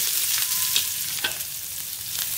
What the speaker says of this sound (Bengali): এবার আমি দিয়ে দেবো পেঁয়াজটা,